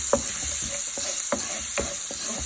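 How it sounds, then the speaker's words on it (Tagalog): Garlic sautés in a hot pan with a steady, close sizzling hiss, broken by a few sharp spatula taps and scrapes as it is stirred. "at the same pan, dito na tayo magigisa ng garlic"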